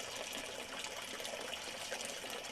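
A video game waterfall in a tranquil garden, a continuous hissing rush of falling water, steady and even with no pauses, fairly quiet.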